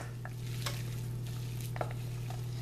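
Veal and fresh chorizo being mixed in a bowl, with soft scattered stirring and clinking sounds over a steady low hum, fairly quiet and without talk.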